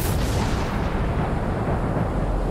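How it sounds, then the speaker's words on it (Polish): Deep, rumbling booms of rocket explosions roll in from a distant shore, a continuous heavy roar with no distinct individual blasts. "Po chwili z brzegu dobiegają odgłosy eksplozji."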